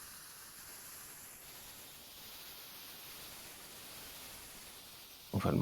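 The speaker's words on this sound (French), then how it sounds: "est-ce que vous l'entendez bien, ce petit bruit blanc?" Steady, even white noise plays alone as a synthesized binaural test signal, soft and continuous, ending in a brief louder burst.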